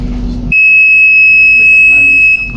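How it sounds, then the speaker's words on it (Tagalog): A NOHMI BOSAI fire alarm panel, type VAPW501-U-24L, sounds its buzzer during a lamp test: a loud, steady, piercing electronic tone that starts abruptly after a short burst of handling noise and holds for about two seconds. "Lamp test for fire alarm panel Nomi Busai Ltd type BAPW501-U-24L."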